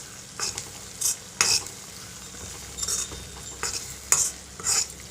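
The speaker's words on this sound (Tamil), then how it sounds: "அதுக்கு இந்த எண்ணெயிலே கொஞ்சம் வதக்கி கொடுக்கணும்" Chili powder sautéing in oil in a kadai for traditional fenugreek kuzhambu, with intermittent scraping stirs of a spoon against the pan over a soft steady sizzle, close and moderately loud, no talking.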